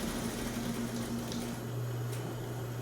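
Sewing machine running steadily as it stitches a half-inch seam around a fabric envelope cushion cover, a continuous close motor hum with no talk.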